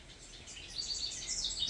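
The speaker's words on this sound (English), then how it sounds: "which is a northern house wren, according to the app that I now have" A northern house wren sings in a rural farmyard setting, its high, bubbling chirps and warbles repeating fairly faintly over about two seconds with no talking.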